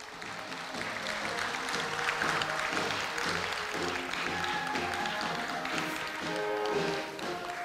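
Applause fills a large hall at Korea University's 113th anniversary ceremony for family award recipients: dense, steady clapping from a big crowd that holds for several seconds over faint background music.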